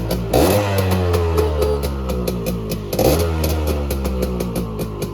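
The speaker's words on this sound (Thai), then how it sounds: "มาฟังเสียงเครื่องกันนะครับ" A used dirt bike engine runs close up with a loud, throbbing idle, rising into two brief revs with some mechanical clatter.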